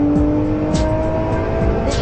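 A Lamborghini Murcielago LP640 on the move, its engine droning close and loud with shifting pitch as revs rise and fall, plus brief whooshing bursts, no talking.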